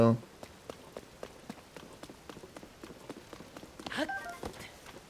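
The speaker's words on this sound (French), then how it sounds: "Là, il nous rajoute la pluie en plus." Steady patter of rain in the video game Zelda: Tears of the Kingdom, with scattered drops tapping a surface, fairly soft, with a brief louder rush near the end.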